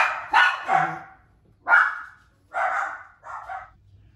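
Dogs barking indoors in short, sharp bursts, about five barks spread over four seconds with brief pauses between, close and clear with no talk.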